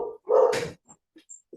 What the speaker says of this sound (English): I knew that the dogs would talk at some point during this.